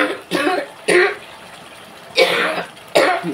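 Four sharp, close coughs come in short bursts with throat clearing between them, in a home kitchen while a shrimp, drumstick and fish curry cooks.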